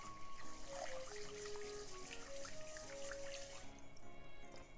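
Rice being gently stirred in water by hand to rinse it, a soft continuous sloshing and trickling with small watery clicks, close and steady with no talk.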